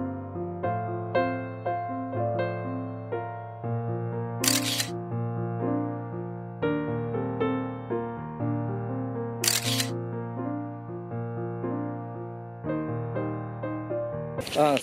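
A camera fitted with a 600mm tele-macro lens fires its shutter three times, each a sharp, brief click about five seconds apart, heard over steady tonal background music.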